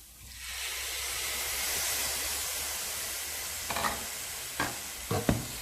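Tomatoes dropped into a hot pan of minced beef keema masala with chilli powder set off a loud steady sizzle and hiss, followed by a few scraping stirs near the end.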